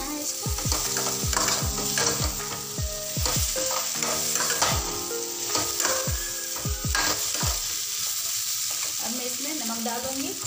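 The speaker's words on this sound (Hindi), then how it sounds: "हमको अच्छे से चला देना है इसको।" A spoon scrapes and clatters around a pan of frying potato and brinjal curry, sharp repeated strokes over a steady sizzle, then the stirring slows while the oil keeps hissing.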